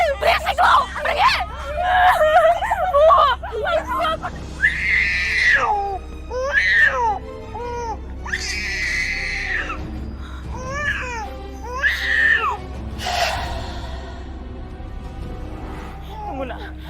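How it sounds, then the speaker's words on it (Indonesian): A baby cries loudly and repeatedly in a TV drama scene, sharp wailing bursts separated by short gasps, while adult voices talk and argue over it in the background. "Itu bayi itu yang nangis."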